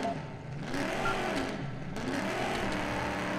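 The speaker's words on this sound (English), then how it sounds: "those are some throaty engine noises" A throaty car engine in the racing video game Danger Zone on PS4 revs and whines with rising and falling pitch sweeps, loud and continuous, with no talk.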